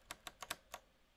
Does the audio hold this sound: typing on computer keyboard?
yes